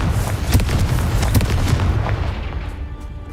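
A Confringo fire spell blasts in the video game Hogwarts Legacy with a loud, booming burst and rumbling crackle that fades over a few seconds.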